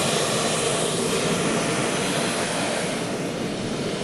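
Jet aircraft engines run steadily on an airport apron as the plane prepares to taxi, a loud, continuous broadband roar with a constant level and no voices.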